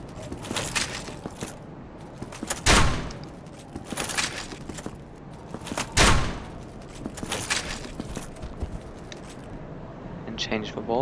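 Crossbow bolts fired in Dark Souls, with sharp isolated shots near 2.7 and 6 seconds standing out over a busy background of game sounds and someone talking.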